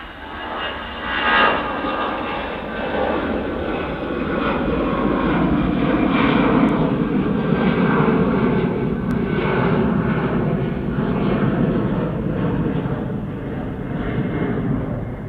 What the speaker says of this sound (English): EasyJet on the roll.